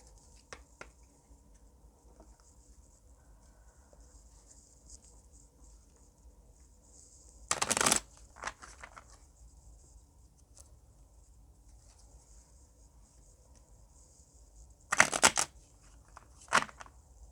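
Small pocket-size oracle cards are shuffled in two brief, rustling bursts, about seven seconds apart, with a quieter flick afterward. Between them the room stays almost silent.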